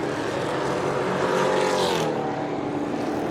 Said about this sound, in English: This is the view that we get from Eric Quintal's car